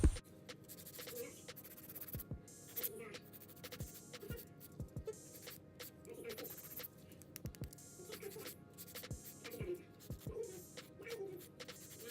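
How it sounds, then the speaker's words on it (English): Acrylic nails filed with a nail file, sides and free edge worked over: steady close-up scratchy rasping strokes in a repeating rhythm, interrupted by sharp clicks and taps, with no talking. "When I'm filing my acrylic, I not only file the sides and the free edge"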